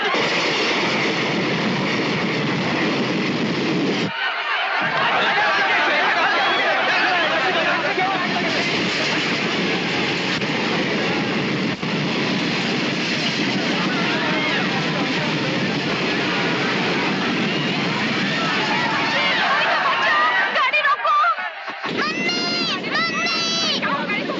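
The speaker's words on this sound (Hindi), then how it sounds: "ट्रेन यहाँ रुकने वाली थी, क्यों नहीं रुकी?" A passenger train thunders through a station without stopping, a loud, continuous close roar and rattle of wheels and carriages that holds for most of the stretch, with voices in the scene.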